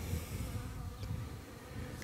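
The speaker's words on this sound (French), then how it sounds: "il y a toujours quelques abeilles encore." A few honey bees linger around a small captured swarm, their soft buzzing a faint, uneven drone close by with no one talking.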